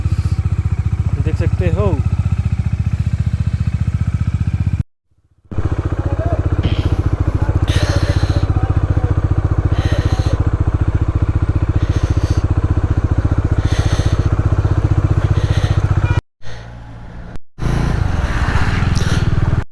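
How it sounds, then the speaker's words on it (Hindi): A motorbike engine runs steadily after starting on a mountain ride near Sonamarg, Kashmir, a constant close low rumble with brief breaks, and someone talks over it. "बाकी बाइक स्टार्ट हो गई है,"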